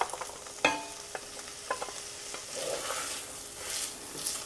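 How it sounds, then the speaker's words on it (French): Onions browning in a beef stew pot for Irish stew, a steady soft sizzle broken by a few sharp scrapes and clacks of a utensil against the pot, close and moderately loud with no talking. "On va les faire revenir jusqu'à ce qu'ils soient bien dorés, bien caramélisés."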